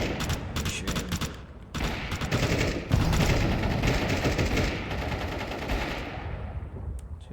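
Rapid automatic gunfire from Counter-Strike on the Anubis map, loud and nearly continuous bursts with short gaps, fading toward the end.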